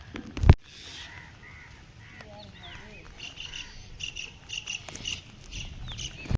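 After a storm eases to light drizzle in rural Bengal, crows caw repeatedly at mid distance over a steady chirr of insects, with other bird calls scattered through and a sharp thump at the start.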